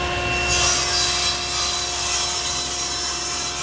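A saw works steadily through a piece of wood while parts are cut for a heart-shaped tray, a continuous close rasping drone with no pauses and no voices.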